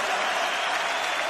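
A large crowd applauds and cheers in an arena at the BLAST Pro Series Copenhagen 2017 CS:GO grand final between SK and Astralis, loud, dense and sustained.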